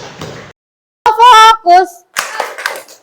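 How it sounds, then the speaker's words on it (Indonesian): Brief burst of classroom applause from students, about half a second of clapping near the start before a gap, followed by a teacher's voice and children answering in unison. "beri tepuk tangan"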